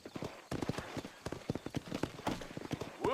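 Horse hooves clip-clop in a steady walking rhythm in the video game Red Dead Redemption, close and clear, with a brief whinny-like sweep near the end.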